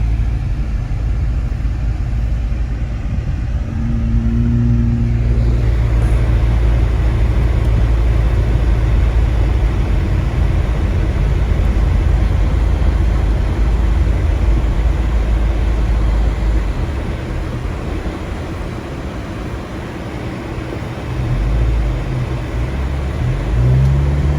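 A car drives along snowy, blizzard-covered roads around Big Bear, California, with a steady loud rumble of engine and tire noise throughout, briefly easing toward the end, with no talking.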